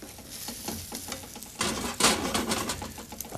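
Eggs for a classic omelet cook in a pan with a soft sizzle and frequent stirring scrapes and taps, growing louder and busier midway.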